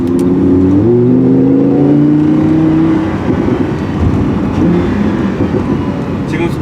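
A Lamborghini Huracan's engine pulls hard under acceleration, its loud rising drone climbing in pitch, stepping through a shift, then settling into a rough, throaty rumble close by.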